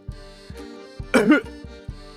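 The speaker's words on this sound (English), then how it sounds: "He steadies a fist against his chest and coughs." A single short, harsh cough bursts out near the middle, set against soft rhythmic background music with a steady beat.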